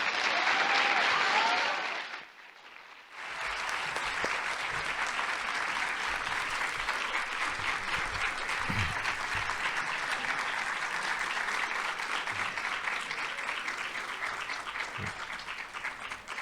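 Sustained applause fills the hall at a nursing and stroke rehabilitation conference, a loud clapping crowd that briefly dips near the start, then swells back and continues steadily.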